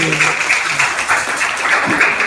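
A class gives a short round of applause for a student named Alfi during an Islamic religious lesson; brisk, dense clapping from a group of nearby hands, fairly loud and brief.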